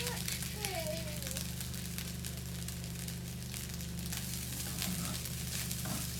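Egg fried rice with pak choi sizzles steadily in a hot oiled pan while it is stirred, a constant frying hiss with light scraping under a voice talking.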